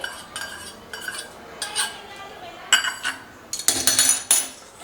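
A spoon stirring melted butter through chicken tikka in a metal dish, giving a few scattered clinks and scrapes that grow busier and brighter toward the end, close by with no talk.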